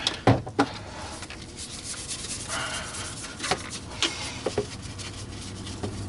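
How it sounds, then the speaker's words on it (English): Miele C3 vacuum cleaner parts are scrubbed with laundry detergent, a steady close rubbing with a few sharper knocks near the start and no voices over it. "I'm just going to scrub."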